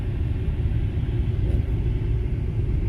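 A BMW car gives a steady, loud low rumble that stays even and unbroken for the whole stretch, close by with no clear revving.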